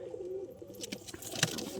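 Madrasi pigeons in a loft give a soft, low, throaty coo near the start, then faint rustles and a brief flutter in a quiet space, with no talking.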